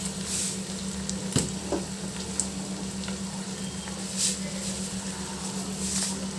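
Chicken pulao with potato and rice sizzles and fries steadily in a pan, a continuous close crackle with occasional soft stirring scrapes and a low hum underneath.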